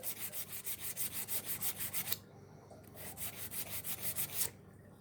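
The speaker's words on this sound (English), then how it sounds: "just using sandpaper to get rid of the old paint." Sandpaper scrubs old paint off a small kitchen gadget in quick rhythmic strokes, soft and close, with a brief pause midway before the rubbing resumes.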